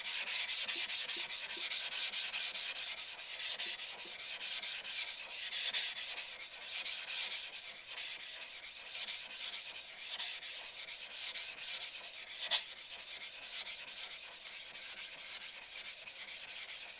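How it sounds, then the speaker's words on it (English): A sharpening stone being flattened gives a continuous, close rasping scrub that holds steady throughout, with one brief knock near the end. "I'll start by flattening the stone."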